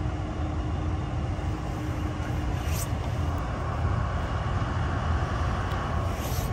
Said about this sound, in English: We have one General Electric locomotive, one Superliner sleeping car, one Superliner diner lounge, one Superliner baggage coach car